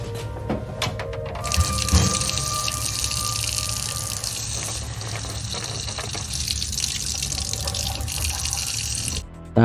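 Tap water runs steadily from a restaurant faucet, a continuous broadband gush with a few clinks and knocks early on, filling the scene at close range until it cuts off abruptly at the end.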